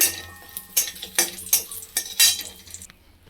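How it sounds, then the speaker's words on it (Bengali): Lentil dumplings (bori) fry in white oil in a wok, heard as a light sizzle under a steady series of sharp spatula scrapes and clinks against the metal pan, close and without talk. "এবার বড়িগুলোকে লাল লাল করে ভেজে নেব।"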